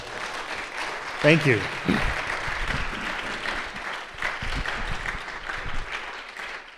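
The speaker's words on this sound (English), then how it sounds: "We get a big round of applause for Doug, Rob, and Dan." An audience at a Christian nationalism training session in Tucson, Arizona claps in a moderate burst that fades out over several seconds, with a speaker talking over it.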